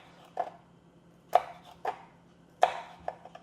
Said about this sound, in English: So I finally chopped the garlic.